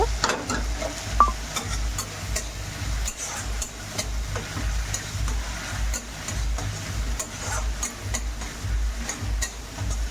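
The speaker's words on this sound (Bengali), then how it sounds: "সেই পেস্টটা দিয়ে দিলাম ভালো মতো আদা রসুনের গন্ধটা কাটিয়ে নেবে ভালো করে ভেজে নিচ্ছি" Ginger, garlic and chili paste frying in a pan, giving a steady close sizzle with scraping stir noises throughout and no talking.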